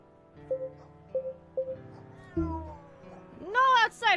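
Cat meowing in a Silent Hill–inspired horror video game, several short mews spaced across the clip, then a louder, drawn-out rising meow near the end, set over a low ambient drone.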